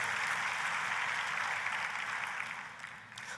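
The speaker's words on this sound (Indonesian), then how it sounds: "Ayo kita kasih tepuk tangannya yang paling meriah buat Tuhan kita" A church congregation breaks into lively clapping during a sermon, a thick, even rattle of many hands that stays full and then thins slightly near the end.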